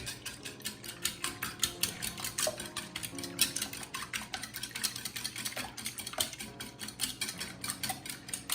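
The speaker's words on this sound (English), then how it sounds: "We're gonna whisk that up." An egg being whisked in a kitchen bowl while baking a Caribbean Bakewell tart: a steady, rapid patter of light metallic clicks and taps from the whisk against the bowl, close and continuous with no talking.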